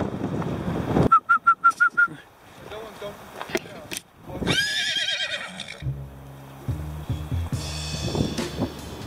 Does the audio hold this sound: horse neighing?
yes